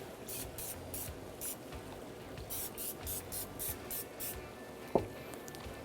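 Short hissing bursts of cooking spray on raw turkey skin repeat in quick succession, followed by a single sharp tap near the end.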